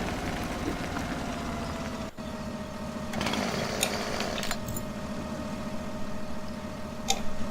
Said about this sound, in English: Yes, that chainsaw does drive me crazy.